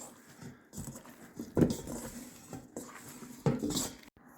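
Chicken wings being tossed with coating in a bowl for hot wings, giving soft irregular rustles and a couple of louder knocking clatters against the bowl, close and quiet.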